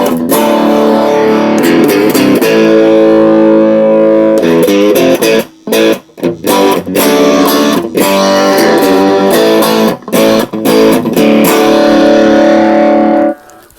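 Electric guitar played loudly through a Fender Japan amp, strummed chords and quick riffs with a bright, full tone, occasional brief stops between phrases.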